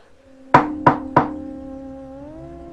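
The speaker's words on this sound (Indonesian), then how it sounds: "Terdengar suara Nek Harjo yang mengetuk-ngetuk pintu kamar Dito" Three sharp knocks on a bedroom door in an even, fairly quick rhythm, loud and close, each ringing briefly, over a faint sustained background tone.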